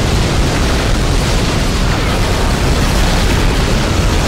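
Continuous loud rumbling blasts and booms from combat in Star Wars Battlefront, dense and relentless, with no pause across the stretch.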